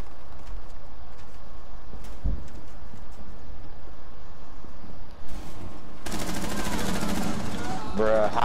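Gunfire in Rainbow Six Siege: a few faint single shots early on, then a loud, sustained burst of rapid automatic fire that runs to the end, nearby and dominant.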